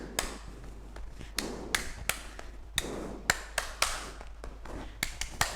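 Rhythmic clapping in a children's counting game, sharp close claps in uneven bursts with a steady tapping pulse over a low room hum.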